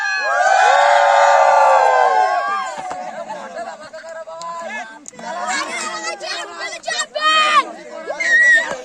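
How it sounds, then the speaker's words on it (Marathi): Villagers celebrating a tournament win at a Holi festival, with loud excited shouting and cheering up close at first, then scattered voices, chatter and whoops from a lively crowd. "बघा ट्रॉफी आहे भाई जल्लोष बघा जल्लोष"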